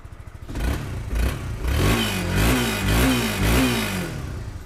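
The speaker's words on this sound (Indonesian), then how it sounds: "nah itu kita cek sound mesinnya halus ya" A second-hand 250cc two-stroke sport motorcycle with 41,000 km on it runs close by, its engine revving up and down in steady rising and falling pulses with some mechanical clatter.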